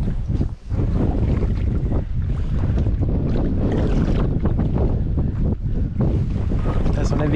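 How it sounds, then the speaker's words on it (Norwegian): Strong wind gusts buffet a rowing boat on a mountain lake, pushing a loud roaring rush of wind noise that blasts across the microphone, briefly dipping then surging again, with water and hull sounds beneath. "det er sånne vindkast som kommer."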